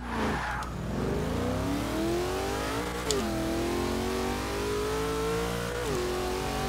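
A twin-turbo HSV GTS four-door sedan from Forza Motorsport 6 roars through a drag run, its engine pitch climbing steadily through the gears with a brief dip at each shift, loud and continuous without any talk.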